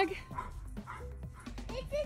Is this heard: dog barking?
yes